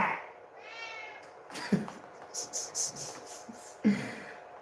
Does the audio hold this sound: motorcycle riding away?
no